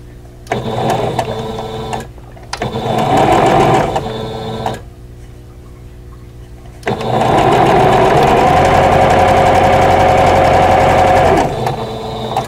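A sewing machine chain-pieces quilt block pieces for a vintage Basket of Diamonds quilt, running loud and close in three steady bursts of rapid stitching separated by short pauses, the last run the longest.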